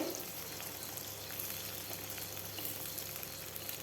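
Potatoes frying in oil in a pan with onions, a continuous soft hiss and crackle throughout, steady and close with no talking.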